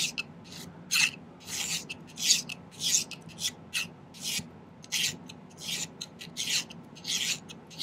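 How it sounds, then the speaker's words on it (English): A hand file working the end of a silver half-round wire ring, producing a steady series of close, rhythmic rasping strokes, roughly one every half second, with brief pauses and no talk. "let's file the end of this one"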